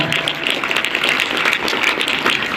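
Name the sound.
audience applause at school Constitution Day event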